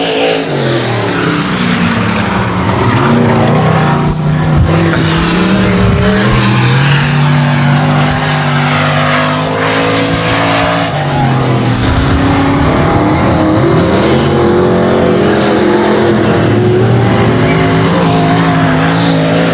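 A race car engine roars loudly on a speedway, its pitch rising and falling as the throttle is worked through a corner. The sound is constant and close, with no voices.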